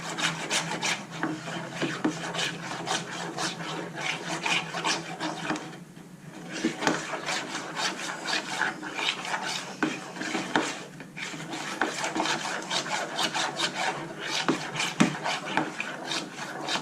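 Liquid honey stirred into fresh cream cheese in a bowl, a steady rhythmic scraping and rubbing of utensil against the dish, close and continuous with brief pauses.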